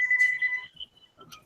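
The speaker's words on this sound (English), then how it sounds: "Hey, that was a phone." A telephone rings with a short, bright electronic tone burst, fairly close and alone, followed by a brief clatter.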